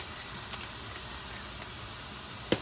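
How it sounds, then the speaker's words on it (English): A steady, soft sizzle of sausage frying in a pan runs throughout, ending with a brief clack. "It's frying up nicely."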